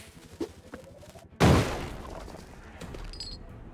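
A bomb blast in the video game Spelunky: one loud, sudden explosion about a third of the way in, rumbling and fading over the next couple of seconds, with a few small clicks and game sounds before and after it.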